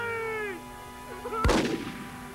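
A single loud gunshot rings out in an action film scene, a sharp blast with a decaying echo, preceded by a tonal wail and quiet background.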